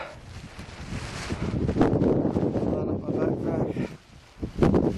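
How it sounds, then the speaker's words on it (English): Wind gusts across a high mountain trail above a glacial lake near the Tetons, a steady rushing buffet that swells and eases, with a louder surge at the end. "Oh, there's a little bit of wind."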